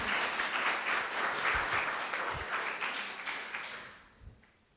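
An audience claps steadily after a presentation on Minecraft Education, the applause fairly loud and sustained before tapering off near the end.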